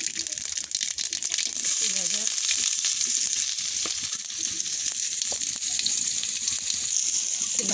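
Whole spices crackle and sizzle steadily in hot oil for a fish curry, with a dense continuous frying hiss and faint stirring, while a voice talks softly in the background.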